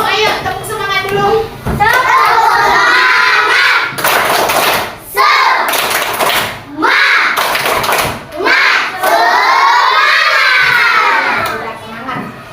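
A class of children bursts into a rhythmic spirit clap with loud cheering and shouting, the clapped pattern coming in bursts separated by short pauses, all close and lively in the room.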